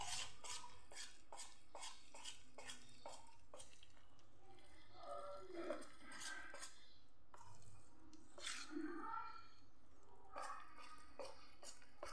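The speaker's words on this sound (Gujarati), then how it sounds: "બધું સરસ આપણે મિક્સ કરી દઈશું." A spoon stirs vegetables into a rice-flour chilla batter in a bowl, giving a quiet run of repeated clinks and scrapes against the dish with soft wet squishing between them.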